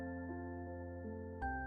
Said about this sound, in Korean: 그 순간 마을 전체에 아름다운 종소리가 울려 퍼졌습니다.